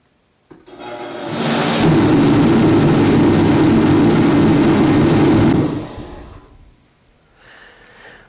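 A Reddy torpedo heater, just repaired, ignites with a click and whoomp, then roars steadily like a jet burner for several seconds before its roar drops off, leaving a quieter rumble.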